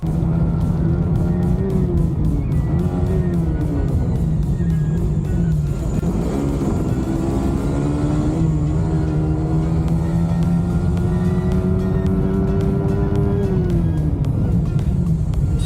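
Two Suzuki GSX-R motorcycles on an open, smooth road produce a loud, sustained engine roar whose pitch rises and drops several times as they speed past at high speed.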